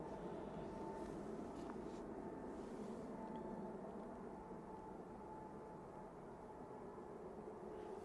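An EasyJet airliner bound for Tenerife takes off at Manchester Airport, sending a distant steady jet roar across the airfield that stays broad and even throughout.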